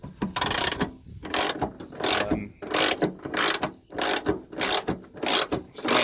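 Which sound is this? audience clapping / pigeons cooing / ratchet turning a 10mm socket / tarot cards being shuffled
ratchet turning a 10mm socket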